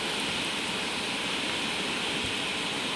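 Raging flooded mountain river rushing past in a broad, steady roar of turbulent water, constant and enveloping with no voices.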